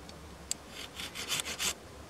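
A hand saw cuts notches into a firewood log for a camp table, making a few short, close rasping strokes in quick rhythm after a sharp tap, with no talking.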